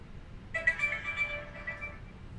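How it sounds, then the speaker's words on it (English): A phone plays a short burst of electronic notification chimes over a low background hum during a flight simulator session, heard alone with no talk. "My phone making all these noises."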